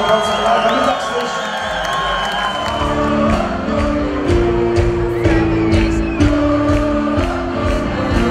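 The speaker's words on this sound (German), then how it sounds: "Riesen Applaus mal, Dankeschön, Lukas" Crowd at a talent show final cheering, whooping and clapping, a loud, busy mix of shouts and applause over music.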